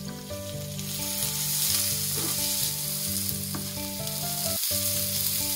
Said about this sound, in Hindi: इसे हम गोल्डन ब्राउन होने तक फ्राई करेंगे और बीच बीच में चलाते रहेंगे ताकि ये जले नहीं